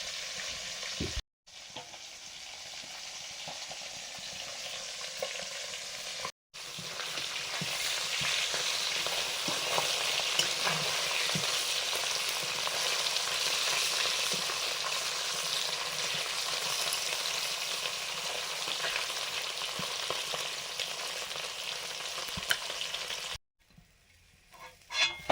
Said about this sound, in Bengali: এবারে পটলগুলো ভাজছি।